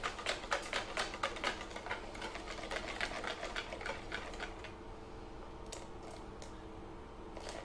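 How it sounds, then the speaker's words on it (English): Milk is whisked a little at a time into a cake mixture in a bowl, making a rapid, even clicking patter of the whisk that runs close, then thins to a few scattered taps near the end. "You're just going to carry on adding a little bit at a time and just whisking it really well into here until we've added all of the milk."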